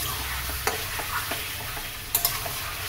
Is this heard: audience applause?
no